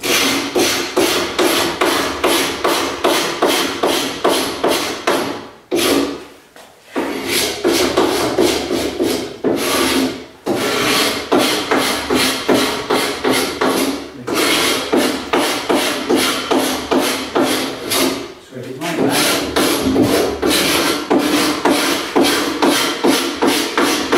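Rough wooden surface of a sash window being scraped by hand, a steady run of rasping strokes repeating rhythmically and close, broken by a few short pauses.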